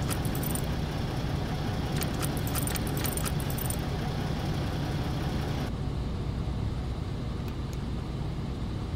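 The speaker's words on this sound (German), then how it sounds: "Ich krieg den Schlüssel nicht raus." Keys jangle in the ignition of a Regiobus i200 bus in the OMSI 2 simulator, brief metallic rattles layered over a loud, steady engine idle that continues throughout.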